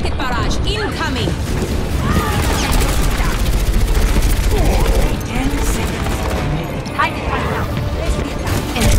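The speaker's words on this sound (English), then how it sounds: "Rocket barrage incoming!" Overwatch match audio with dense, continuous gunfire and explosive rocket barrage bursts, loud and busy throughout, layered with in-game voice callouts.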